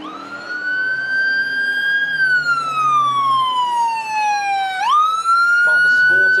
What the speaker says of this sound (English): you'll certainly hear those blues and twos and the siren